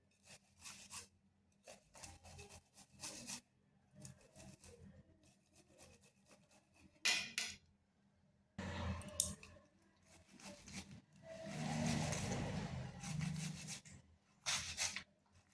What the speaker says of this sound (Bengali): এরপর টমেটো আর আদাটাকে আর কাঁচা লঙ্কাটা গ্রেট করে নিচ্ছি।